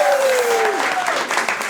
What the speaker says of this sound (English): A big round of applause for Will and Michael.